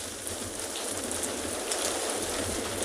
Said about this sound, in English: the rain's just picked up a little bit